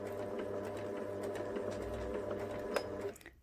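A sewing machine runs a short burst of reverse stitching on fabric, a steady close mechanical whir and rattle lasting about three seconds before stopping abruptly.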